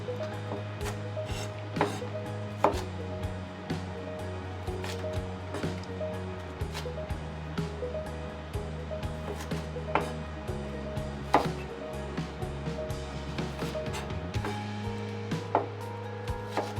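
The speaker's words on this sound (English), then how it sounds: "you can unfold the onion layers, and then you can cut into half" Knife cutting an unfolded onion on a wooden cutting board, a steady series of close, crisp chops and taps over a low constant hum.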